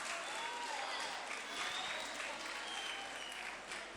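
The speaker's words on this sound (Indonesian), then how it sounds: "aplaus yang meriah untuk Mas Aril Alfanda" Applause from an audience at a mosque gathering, a steady wash of clapping that runs the whole time without a break, fairly faint and distant, with no talk over it.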